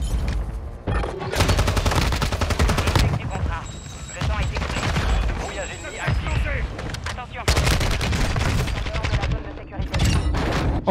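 Video game gunfire: long bursts of rapid automatic fire crackling loudly over much of the stretch, with heavy booms and denser volleys near the end, as a voice speaks intermittently beneath.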